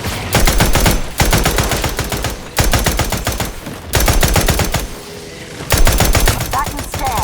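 Loud automatic gunfire from the video game The Outer Worlds 2 comes in four long rapid bursts separated by short pauses, with a quieter gap before the last burst.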